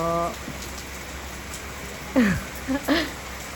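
A steady hiss of falling rain fills the background, with a few brief voice sounds rising over it near the start and end.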